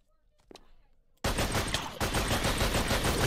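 Gunfire in the survival game Semi Nuclear Winter erupts after a quiet second with a faint voice, becoming a loud, dense burst of rapid shots that continues steadily to the end.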